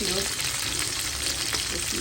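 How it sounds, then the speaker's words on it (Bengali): Red capsicum and garlic frying in a pan with oil, a dense continuous sizzle close up with faint stirring underneath and no clear pauses. "লাল ক্যাপসিকাম ভাজা নিচ্ছি"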